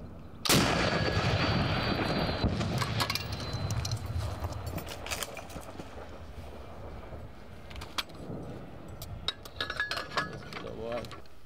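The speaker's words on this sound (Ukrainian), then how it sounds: "Постріл!" A sharp, loud gunshot opens the recording during fighting in Bakhmut, Ukraine, followed by metallic mechanical clicks, rattles and scattered knocks, with faint voices in the background.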